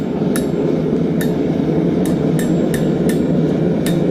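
Hammer blows on hot metal at an anvil while forging an outdoor stake, about nine sharp ringing strikes at a fairly steady pace over a constant loud roar of the forge, close and without voices.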